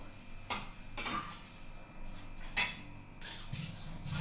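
A utensil scrapes and clinks against a pot as food is stirred and fried, several separate metallic scrapes and knocks spaced irregularly over a low background hiss, close but not loud.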